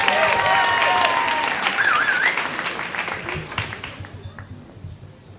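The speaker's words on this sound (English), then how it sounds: "Keep that applause going for Kevin." Audience applause at an LA Moth StorySlam for storyteller Kevin McGeehan, dense steady clapping with a few whoops that thins and fades toward the end.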